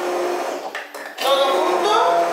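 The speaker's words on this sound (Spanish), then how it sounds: "se trata de batirlo, mirad. Ahora ya lo batimos." A hand blender whirs loudly while blending gazpacho, a steady motor drone that briefly dips and then resumes at full strength.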